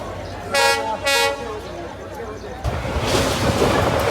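A crowded passenger train on the way to Ambubachi Mela rumbles along the rails, with two short horn toots near the start and a louder rush of wheel and car noise later, crowd voices mixed in.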